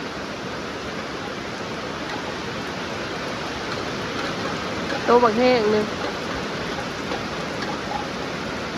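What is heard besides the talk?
rain falling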